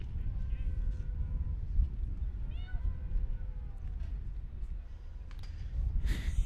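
Baseball fans in the stands at an American Legion game imitate cat meows, several drawn-out human mews rising over a low crowd murmur, with talk nearby.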